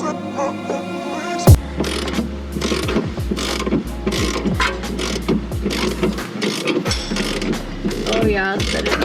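A socket wrench ratchets quickly on a BC Racing coilover spring for a Nissan 350Z, producing a dense, close clicking under a low steady hum, with a sharp clank partway through.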